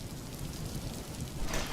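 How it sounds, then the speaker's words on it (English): Steady rain patters on an empty house, a dense, even hiss of drops that carries unbroken throughout and swells slightly near the end, with no voices. "And the rain tapped on the empty house,"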